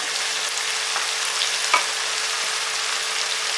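Steady broadband sizzling of paste frying in a hot pan, continuous and fairly close, with a faint clink of a utensil partway through.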